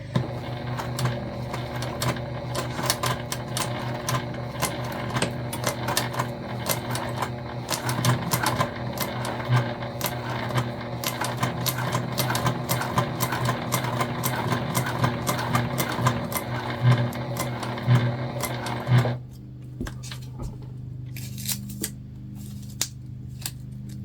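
A home sewing machine runs steadily while stitching a Piper ID holder through fabric and tape, its rapid needle chatter continuous and close for about nineteen seconds, then stopping abruptly and leaving quiet handling noises.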